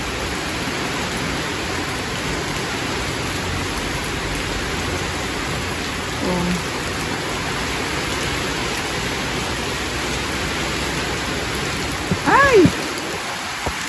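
Heavy rain pouring down outside a house, a loud, unbroken wash of noise that holds steady throughout, with a brief exclamation from a nearby voice near the end.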